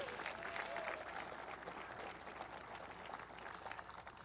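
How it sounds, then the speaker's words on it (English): A large crowd at a presidential speech in Phoenix, Arizona breaks into steady applause, a dense, somewhat distant wash of many hands clapping that holds evenly throughout. "You should applaud that."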